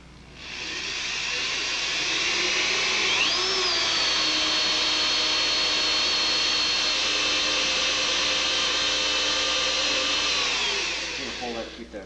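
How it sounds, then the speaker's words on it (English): A power drill with a unibit step bit boring a small pilot hole while fitting an auxiliary tank on a Honda ST1100, steady high whine close up, running continuously for about eleven seconds before winding down. "Now what I want to do now is drill a very small pilot hole"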